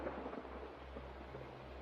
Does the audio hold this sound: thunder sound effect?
yes